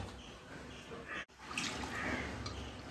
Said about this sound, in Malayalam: കുറച്ച് വെള്ളം ഒഴിച്ചിട്ടുണ്ട്